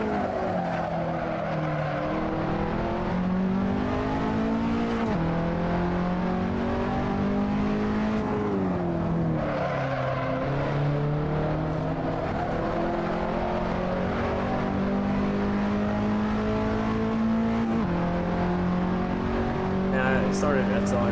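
Race car at a CMP track weekend, heard from onboard: a continuous loud engine drone rising and falling in pitch through gear changes and acceleration, with someone talking over it throughout.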